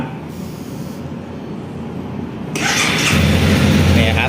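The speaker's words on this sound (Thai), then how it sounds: "สตาร์ททีเดียวติดนะครับ" A 2019 Honda CB300R motorcycle starting on the first try: a brief starter whir, then the engine catches and settles into a loud, steady idle close by.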